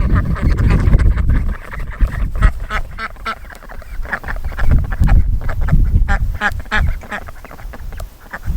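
Runner ducks in a garden quack loudly and close by, a steady run of repeated calls with no pauses.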